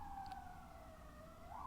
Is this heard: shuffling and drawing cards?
no